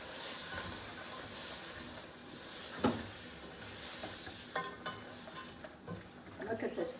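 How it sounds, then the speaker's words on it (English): Seafood cooking in a hot pan for seafood rice, a continuous moderate sizzle with occasional knocks and scrapes of a utensil against the pan and a few louder clatters toward the end, close by. "I'm going to cook my seafood first"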